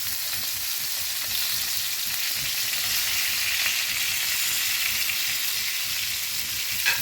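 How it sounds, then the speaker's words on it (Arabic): Merna snacks frying in a pan of hot oil, a steady dense sizzle and crackle running throughout with no speech. "عرفتي فين ما كنبغيو نقليو الميرنا"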